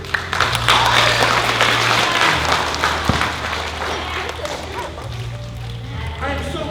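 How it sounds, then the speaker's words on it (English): Applause from a fifth grade poetry slam audience, a broad steady clatter of clapping lasting several seconds, with a low hum and a few sharper claps near the end. "I am so glad some of you clap"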